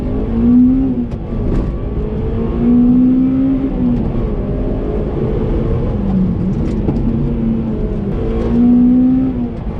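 A Honda Civic EP3 Type R pulls hard through the gears. The engine note climbs and drops in a sustained roar with gear changes, heard loud from inside the car with no talking.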